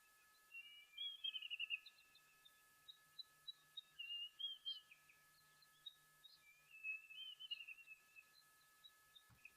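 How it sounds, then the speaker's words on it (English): A Diederik cuckoo calls at a waterhole, with bursts of high, clear, rising whistled notes repeated in three phrases, faint and distant over a quiet background with a steady electronic hum. "Sounds like our Diedrich's cuckoo calling in the background there"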